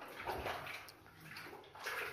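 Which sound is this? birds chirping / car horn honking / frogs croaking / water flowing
water flowing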